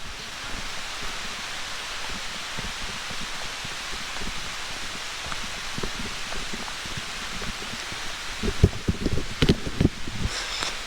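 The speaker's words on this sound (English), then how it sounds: "Starting to rain again." Soft, steady rain hissing through forest leaves and branches in southern Algonquin, with a few louder rustles and knocks near the end. No one speaks.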